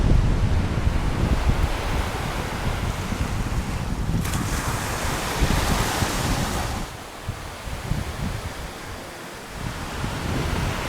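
Surf and steady wind at a beach on Koh Phangan, Thailand, with a continuous broad wash of breaking waves and wind buffeting the microphone, loud and close throughout, easing slightly toward the end.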